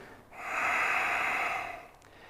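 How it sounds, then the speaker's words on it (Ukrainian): One long, steady breath out through the mouth during an asthma breathing exercise. The airy exhale is close and clear, lasts about a second and a half, and rises and fades smoothly with no talk over it. "Видих."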